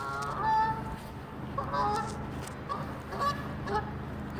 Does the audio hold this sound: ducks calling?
yes